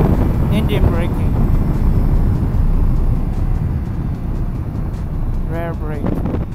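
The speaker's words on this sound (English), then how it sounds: "Engine braking." Motorcycle engine braking on the road, a steady low drone of engine and wind rumble throughout, with brief voice fragments near the start and end.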